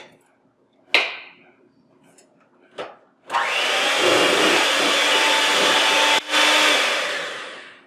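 An electric mixer beats pound cake batter. A couple of short bumps and clatters come first, then the mixer whirs loudly and steadily for several seconds with one brief dip in its drone.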